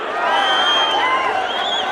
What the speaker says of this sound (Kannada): ಜೋರಾದ ಚಪ್ಪಾಳೆ, ಜೋರಾದ ಚಪ್ಪಾಳೆ.